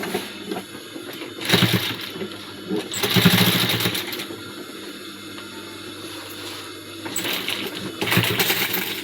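A sewing machine stitches along folded fabric edges in several bursts of rapid mechanical whirring, with quieter pauses between runs while the cloth is repositioned; no speech is heard.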